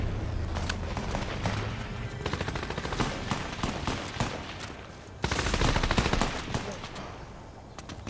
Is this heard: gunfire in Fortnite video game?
yes